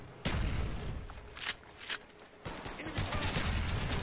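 Gunfire in Call of Duty Black Ops during a wager match, a quick cluster of sharp shots and short bursts at moderate level, spread over a few seconds with small gaps between them.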